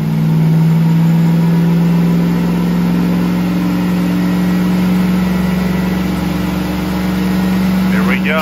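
A daily-driver car engine running on top fuel nitro holds a loud, sustained drone through a dyno-style pull, steady and close with a faint rise near the end. Voices are audible around it.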